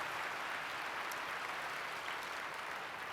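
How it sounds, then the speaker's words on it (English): Audience applause for performers at an opening ceremony, a steady even wash of clapping sustained throughout at moderate level with no voices over it. "Let's give our performers another round of applause."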